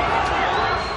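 A crowd shouting during a riot in Dublin, Ireland, a dense, continuous roar of many voices, loud and close, with no pause across the brief moment.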